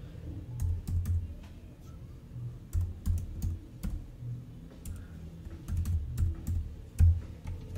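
Someone types on a computer keyboard in a quiet room, with soft clusters of close key clicks in irregular bursts separated by brief pauses.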